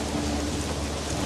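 Steady rain in an outdoor storm, a dense continuous hiss with low rumbling underneath that suggests distant thunder, fairly loud and even throughout with no voices.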